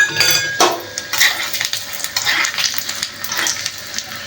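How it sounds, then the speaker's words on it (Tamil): Mustard seeds, chana dal and urad dal crackle and spatter in hot oil in a pan, a bright, busy sizzle with sharp pops and occasional clinks of a metal utensil. "இப்போ அது கொஞ்சம் தாளிக்கிறதுக்கு ஆயில் போட்டிருக்கேன். கொஞ்சம் கடுகு, கடலைப்பருப்பு, உளுத்தம்பருப்பு"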